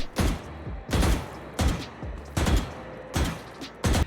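Valorant gunfire during jiggle-peek pre-firing: six sharp bursts of rifle shots spaced roughly every half second to second, loud and close, with brief gaps of footsteps and game ambience between.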